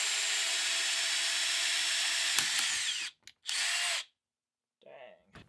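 A power drill bores into a car's rear subframe bushing, a loud, close whine held for about three seconds, then a shorter burst after a brief stop, followed by a faint voice.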